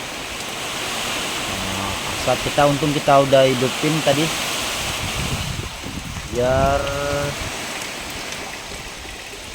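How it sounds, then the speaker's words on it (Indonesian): Rain and gusting wind in a durian orchard make a constant broad wash of noise, while a person talks briefly over it in two short bursts. "ini sekarang langsung turun hujan serta anginnya lumayan kencang ini"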